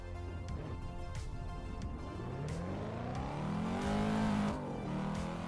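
A car engine in the Assetto Corsa racing simulator revs up and down through the gears, its pitch sweeping upward, peaking loudly near the end and then easing off, with no talking.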